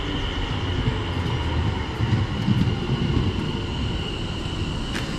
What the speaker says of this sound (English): here is the train now